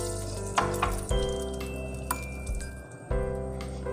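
Butter melting and frying in a heated pan for a butter garlic spinach pasta, a steady close sizzle with a few sharp clinks and taps of a utensil against the pan.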